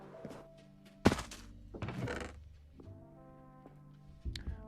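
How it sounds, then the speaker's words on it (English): Banging on a door in the Minecraft video game: two loud, hollow thuds close together, then a few softer knocks, all over steady background music. "banging on the door here, so let me check that out."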